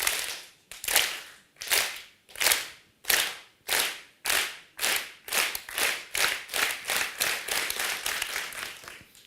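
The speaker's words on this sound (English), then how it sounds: "we're going to train it to recognize claps" Single hand claps in a quiet room, about twenty sharp, close claps spaced evenly at first, then coming faster and closer together toward the end, with no speech.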